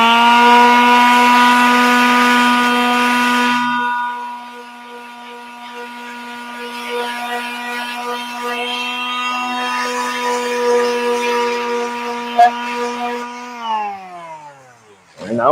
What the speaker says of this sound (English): Just a little bit of light sanding. That was 60 grit.